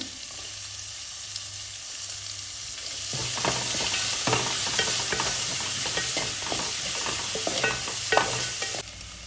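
Onions sautéing with green chillies and curry leaves in a pan, a steady close sizzle that swells after a few seconds, with irregular scraping and stirring clicks throughout.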